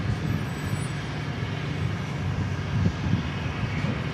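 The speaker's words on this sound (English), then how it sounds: "It's actually a Cessna Citation." A Cessna Citation business jet roars steadily at an airport, a broad continuous engine rumble without talk.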